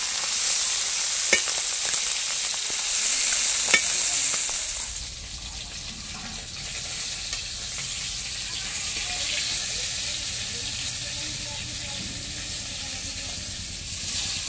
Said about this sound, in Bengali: মাছগুলো বেশি ভাজবো না, হালকা অল্প একটুখানি নেড়ে তুলে নেবো